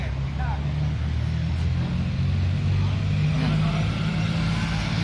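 A Kawasaki ZX10 Ninja superbike fitted with race exhausts runs with a loud, continuous low engine drone at a superbike gathering in Ahmedabad, close by and steady, with voices talking over it.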